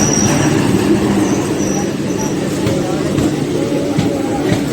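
A Kacheguda–Peddapalli passenger DEMU train rolls into Vadiyaram station after 95 km from Nizamabad, a steady loud rumble of wheels on rail with faint squeals and a murmur of voices in the background.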